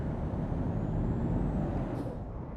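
A heavy truck in Euro Truck Simulator 2 rumbles low and steady under a faint whine, and a short hiss of air brake release comes near the two-second mark, with no voices.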